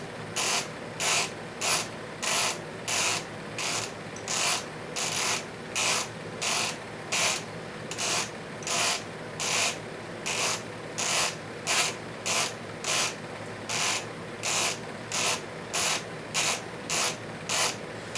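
Mechanical clock hand-set at about 2:20 in the morning, giving a steady run of sharp ratcheting clicks, roughly two per second, close and alone over a low background hum for the whole stretch.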